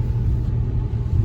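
A tuned Ford F150 pickup running 34-inch tires pulls hard onto a road, a deep low engine rumble holding steady and close for just over a second, with no talk.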